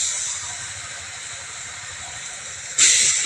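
Raw chicken hits a hot pan with a steady, close hiss of sizzling that swells sharply louder near the end, with no talking over it.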